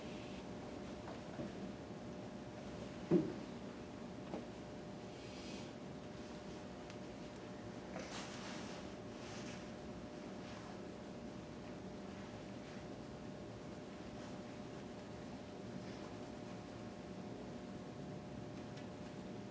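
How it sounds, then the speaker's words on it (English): A pencil works dark shading onto paper during a drawing lesson on values, a faint, continuous scratchy rubbing close to the page over a quiet room hum, with one brief tap early on. "you want to kind of draw that in really dark"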